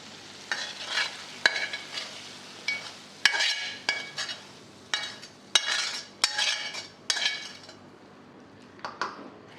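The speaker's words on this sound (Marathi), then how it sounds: "आता आपण याच वेळेस काळा मसाला मिक्स करू आणि आता हे संपूर्ण मिश्रण या बटाट्यात घालू" A spoon scrapes and clinks in a pan as black masala mixture is stirred into cooked potatoes for a samosa filling. The strokes come in quick irregular bursts at close range, with no talking.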